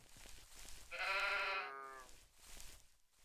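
A sheep in the video game Minetest lets out a single clear, drawn-out bleat with a wavering pitch, close and distinct over quiet background ambience.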